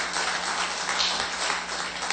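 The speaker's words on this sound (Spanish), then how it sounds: "Dale un aplauso al Señor" Church congregation applauding, a continuous dense patter of many hands clapping together, fairly loud with no voices over it.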